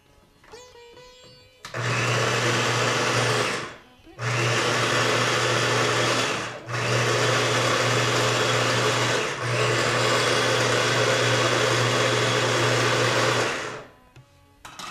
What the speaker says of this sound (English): how to grind the onions and the tomatoes